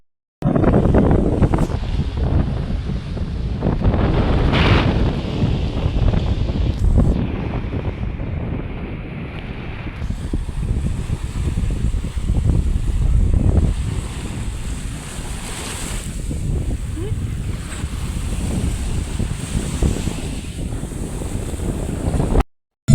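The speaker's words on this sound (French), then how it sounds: "Bon, vous l'avez compris, il y a du vent." Strong wind buffeting the microphone in rough gusts at the seaside on a spring day, with surf and water rushing in the background; no one speaks.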